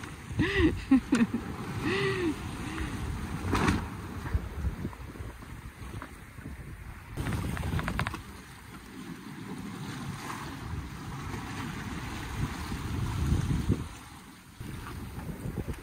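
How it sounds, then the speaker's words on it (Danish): Wind building while sailing on a Maxi 95 sailboat off the coast between Blankenberge and France, steady gusty roar and buffeting across the microphone with water washing around the hull, near and continuous. "Jo længere vi kommer derudad, kan man godt mærke, at vinden den begynder at tage til."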